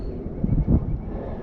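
Strong wind buffets the microphone beside a river during March fishing, a low rumbling roar that swells briefly in the middle of a short gust.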